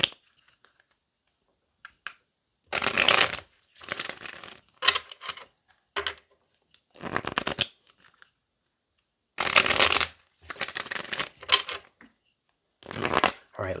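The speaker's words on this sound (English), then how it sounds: "let's get this last shuffle here" Tarot cards are shuffled in a series of short, crisp riffling bursts, each a second or so long, separated by quiet pauses, close and clear.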